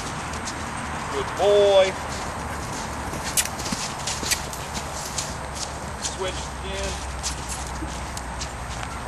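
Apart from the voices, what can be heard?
horse Romeo cantering, hoofbeats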